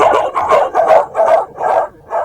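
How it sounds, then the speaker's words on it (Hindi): Several dogs bark loudly and repeatedly in quick bursts, close by, with about six rhythmic volleys and no talking. "सारे डॉग्स डेनियल्स पर भौंकने लगते हैं।"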